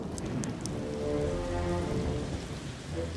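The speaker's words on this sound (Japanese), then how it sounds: "毛利軍は雷混じりの激しい雨に見舞われた" Heavy rain pours steadily in a thunderstorm scene from the strategy game Nobunaga's Ambition: Taishi, a dense continuous hiss with a low thunder rumble beneath, at moderate level with no talking.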